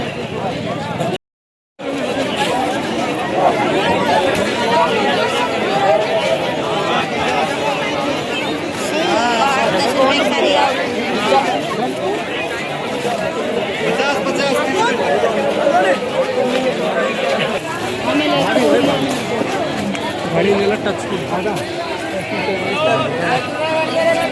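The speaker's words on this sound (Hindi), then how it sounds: "भीड़ देखो कितनी भीड़ लगी हुई है पीछे।" Dense crowd chatter at a busy outdoor winter market, a continuous loud babble of many voices with footsteps and movement, a nearby person talking over it throughout, and a brief dropout early on.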